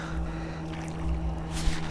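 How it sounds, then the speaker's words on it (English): A motorboat passes on a river, heard as a steady low engine hum with a constant tone, joined by wind and the wash of water, no talking. "Oh shoot, we have a boat."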